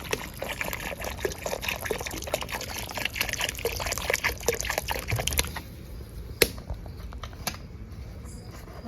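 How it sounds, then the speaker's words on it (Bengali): Water poured into a soybean curry, a close, continuous splashing trickle with small drips that eases off after about five seconds, leaving scattered clinks and quieter liquid sounds, with no voices. "সোয়াবিনটা দিয়ে দেবো আরেকটু জল দেবো কতটা জল লাগে দেখি"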